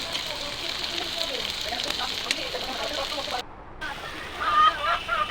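Beef fries in a pan with ginger, garlic and cumin pastes, giving a steady crackling sizzle with a soft hiss. A voice is heard faintly at times.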